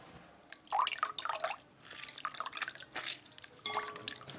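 Lemon halves are squeezed over a bowl of water for artichokes, giving several bursts of dripping and splashing juice, close and moderately loud, with short pauses between squeezes.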